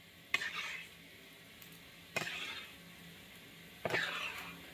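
Fried gulab jamun stirred into sugar syrup in a big vessel: three separate scraping, sloshing strokes spaced a couple of seconds apart, each with a soft wet sizzle, fairly quiet and close.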